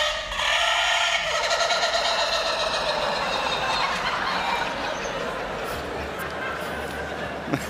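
A rooster crows during a crowing contest on a television show, a long drawn-out call heard over audience and studio noise, with people talking nearby.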